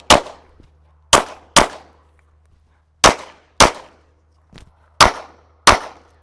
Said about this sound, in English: So I'm going to shoot 2 rounds freestyle, 2 rounds strong hand, then weak hand, then back to strong hand to practice passing the gun off.